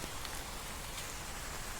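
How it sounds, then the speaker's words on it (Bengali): Heavy rain pours steadily in the Kashmir mountains during the Amarnath pilgrimage, a dense, unbroken wash of drops drumming on surfaces, close and constant without any voices. "ভীষণ বৃষ্টি হচ্ছে"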